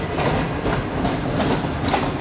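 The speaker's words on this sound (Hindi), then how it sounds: "अब ट्रेन रवाना होगी।" Shalimar Express passenger train rolling out of a station in Pakistan, a steady loud rumble of wheels and carriages with faint rhythmic clatter throughout, no voices.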